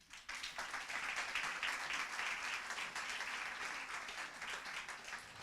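An audience at a French fundraising seminar applauds as a guest, the director of the French fundraisers' association, comes up on stage, dense clapping that starts abruptly and holds steady before easing slightly.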